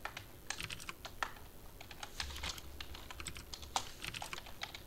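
Fingers type briskly on a computer keyboard, a close run of crisp clicking keystrokes in uneven bursts with short pauses, loud over a quiet background hum.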